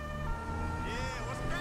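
Police car siren in GTA V, sounding continuously over engine rumble as the patrol car, a Mercedes-Benz E-Class, drives, with a secondary warbling siren tone rising and falling near the end.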